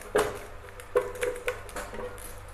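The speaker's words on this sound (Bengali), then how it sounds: "একটু নেড়ে দিচ্ছি ঘিটা।" A spoon stirs ghee in a large cooking pot, giving a few soft metallic clinks and scrapes at an irregular rhythm, fairly quiet and close.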